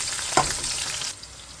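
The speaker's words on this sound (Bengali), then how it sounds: "গরম তেলের মধ্যে দিয়ে দেবো পেঁয়াজ।" Onions hitting hot oil in a home pan, a sudden sizzle with a sharp hiss that settles into steady frying before dropping away.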